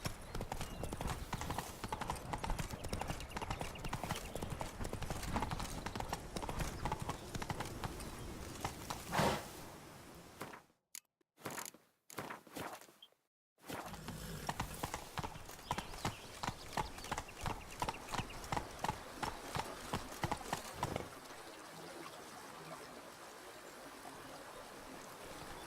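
In The Witcher 3, the horse Roach clip-clops along in a quick, steady rhythm of hoofbeats, broken by a few brief silent gaps. An ambient outdoor wash sits behind the hooves.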